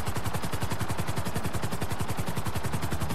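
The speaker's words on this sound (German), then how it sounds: "wir haben ja Gott sei Dank gerade hier den Helikopter und deswegen nehmen wir uns den jetzt und fliegen da mal hin" Helicopter in the video game GTA V: a steady, loud rotor chop with rapid rhythmic thumping throughout, close and continuous with no talk.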